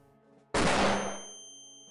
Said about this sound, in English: the flashbang sound is awesome